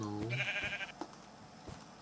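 A Minecraft sheep gives a single short, nasal bleat near the start, with quieter game ambience following and a voice faintly present.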